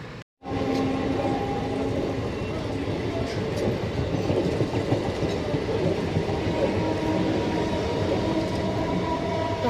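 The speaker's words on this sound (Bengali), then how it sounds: "প্রচুর আওয়াজ স্টেশনে বসে আছি" A train rumbles steadily through a railway station with rhythmic wheel clatter, loud and close, after a brief silent gap at the start.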